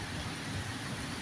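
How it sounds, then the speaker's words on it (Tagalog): Heavy monsoon rain pouring down in Mandaluyong City near Megamall, a steady, dense broadband hiss with a low rumble underneath, continuous and fairly close throughout, with no talking. "Lakas pa rin ang ulan."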